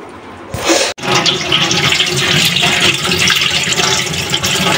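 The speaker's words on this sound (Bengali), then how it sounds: "তো এখন আমি আপনাদের ধুয়ে দেখাচ্ছি কতটা পরিষ্কার হয়েছে" Gold jewelry rinsed under a running tap at home after brushing, a steady loud rush of water splashing over the pieces that starts abruptly after a brief knock and continues without pause.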